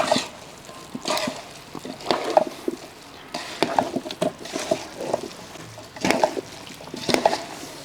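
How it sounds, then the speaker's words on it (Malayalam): Cauliflower being mixed by hand into a thick gravy, giving soft wet squelching and stirring sounds in uneven bursts, close up with no talking. "അപ്പോൾ ഇത് നല്ലപോലെ കൈ കൊണ്ട് തന്നെ നല്ലപോലെ മിക്സ് ചെയ്തെടുക്കുക."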